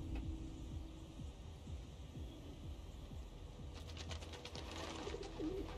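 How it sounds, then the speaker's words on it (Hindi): Faint pigeon cooing over a low hum, then a fluttering burst of wingbeats as birds take off, quiet and a little distant, in the video game Hitman 3. "पंछियों को उड़ा देते हैं"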